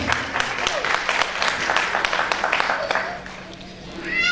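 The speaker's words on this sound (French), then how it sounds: "J'aimerais s'il vous plaît que vous applaudissiez très fort Ndeye Amy Sidibé, alias Madame Barry." Scattered clapping from the audience at an RCD meeting in Paris, with sharp individual claps mixed with people talking nearby.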